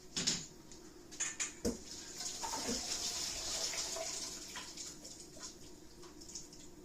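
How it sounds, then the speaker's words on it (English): Water pours and splashes as boiled potatoes are drained, a steady sink-like gush with a few clatters of the pan near the start. "What we can now do is drain them off and just parboil the parsnips"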